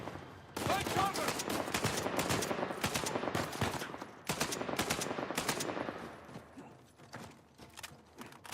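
Rapid, loud gunshots crack in bursts during an Uncharted 4 firefight, the volleys broken by short gaps. Faint scuffling sits under the shots, and the firing tapers off toward the end.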